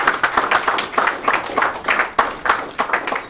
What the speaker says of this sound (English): Round of applause, please, round of applause.